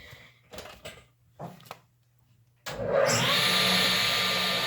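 A power tool whirs up to speed and runs steadily at close range while a hand plane is being restored, after a few clicks and knocks of handling.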